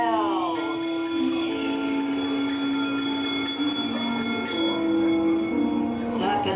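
Bell tones ringing inside the Disneyland Haunted Mansion ride, sustained ringing pitches layered over eerie background music with a steady, moderately loud level.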